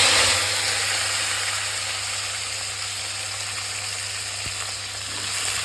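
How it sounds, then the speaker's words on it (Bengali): Washed, cut potatoes fry in hot oil with a steady, even sizzle that holds across the whole stretch, close and moderately loud, with a low hum running underneath and no voices. "এই যে কেটে ধুয়ে রাখা আলুগুলো আমি তেলে একটু ভেজে নেব।"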